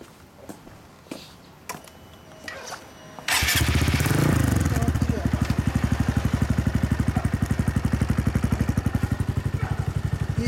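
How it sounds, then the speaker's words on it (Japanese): A Honda Grom MSX125 motorcycle with an RPM exhaust cranks and catches with a loud roar, then settles into a steady, throbbing idle, close by with no talking. "すみません、さっきエンジンかけてもらえますか。"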